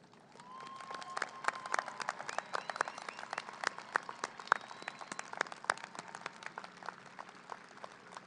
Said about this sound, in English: please stand and receive recognition for your academic accomplishments by a round of applause